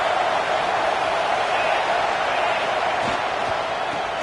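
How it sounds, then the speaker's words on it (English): Steady roar of a football stadium crowd making noise to rally the home defense before a red zone stop, a dense continuous wash of cheering with no break, loud and close throughout. "here comes the noise. This crowd is trying to inspire this defense to make a big red zone stop"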